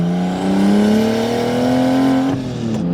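A single-turbo BMW M3 engine revs up steadily with a deep, smooth exhaust drone, then drops off sharply near the end, loud and close.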